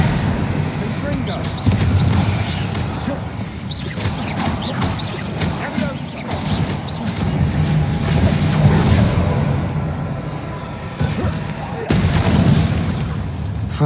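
Confringo fire spell blasts in Hogwarts Legacy, a run of booming explosive bursts and rumbling impacts across a busy combat scene, with a voice calling out spells over the din.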